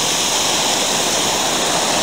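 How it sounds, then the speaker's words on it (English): A large waterfall in New Zealand roars in a steady, dense broadband rush, close and loud without a break, with no voices over it. "quite an amazing little waterfall this. Well, an amazing big waterfall actually."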